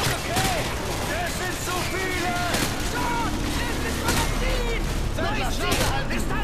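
Rapid bursts of gunfire from the video game Call of Duty: Modern Warfare 2 crackle repeatedly over a dense, noisy background, with sharp shots scattered throughout and no clear pauses.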